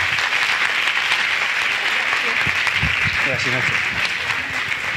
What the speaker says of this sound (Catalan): jo demano un aplaudiment per la Viviana